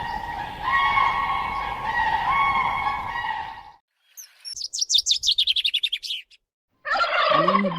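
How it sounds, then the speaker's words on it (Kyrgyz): Crane calls: loud, harmonic trumpeting notes held for several seconds, then a short silence, a burst of rapid, high chattering calls, and another harsh, loud call at the end. No voices. "Кийинки канаттуубуз турна деп аталат"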